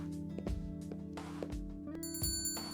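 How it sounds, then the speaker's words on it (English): A shop door bell chimes brightly as a store is entered in a dragon visual novel, a high ringing tone near the start and a clear, sustained bell at the end, layered over background game music. "I entered the store, the sound of the bell alerting the staff to my arrival."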